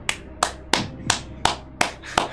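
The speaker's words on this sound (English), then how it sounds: "Everybody, just nod and clap." Seven sharp hand claps land at an even, unhurried rhythm on a game show set, each crisp and close with brief decays and quiet gaps between them.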